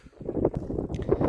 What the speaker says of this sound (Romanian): Bate vântul foarte tare.